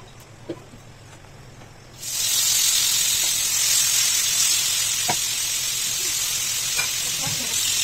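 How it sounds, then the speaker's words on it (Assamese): Pieces of meat frying in a little oil as they are turned, with a loud, steady sizzling hiss that bursts in after a quiet start and continues with faint clicks and pops. "এনেকৈ অকণমান তেল দি পেলাই মাংস কিটুকুৰ উল্টাই পুল্টাই ভাজি থাকিলোঁ"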